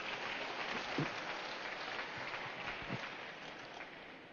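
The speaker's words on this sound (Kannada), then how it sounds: "ಒಮ್ಮೆ ಜೋರಾಗಿ ಚಪ್ಪಾಳೆ ತಟ್ಟಾರೆ" An audience at a spiritual gathering gives a round of applause, a faint, distant, steady patter of many hands with a couple of slightly sharper claps standing out.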